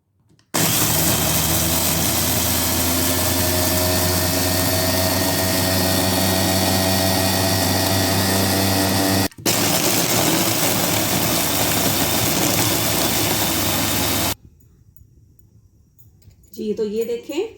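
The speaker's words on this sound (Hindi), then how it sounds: "अब हम इसको जो है चॉपर में इसको अच्छी तरह से ब्लेंड करेंगे ताकि ये जो है बारीक बारीक जो है ये ब्रेड क्रम्स की शक्ल में आ जाए" Electric kitchen chopper whirring steadily as it blends bread pieces into crumbs, a loud continuous motor drone lasting about fourteen seconds with one brief pause, then stopping into near quiet.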